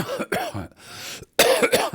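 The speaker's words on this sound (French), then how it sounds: "j'ai une petite toux récalcitrante" Several harsh coughs from a lingering cough after bronchitis, in quick bursts, close to the listener, separated by a brief pause.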